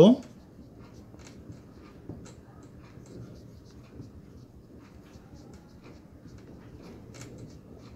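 Writing during a finance lecture on capital budgeting: faint, steady scratching strokes run through the whole stretch, with a louder bump at the start and occasional small taps. No speech can be made out.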